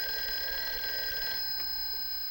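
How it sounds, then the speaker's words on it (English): A 1960s telephone bell rings in a home, a bright sustained electric ring that carries on for most of the stretch before easing off, heard alone without talk. "Hey, that's your phone, Uncle Bill."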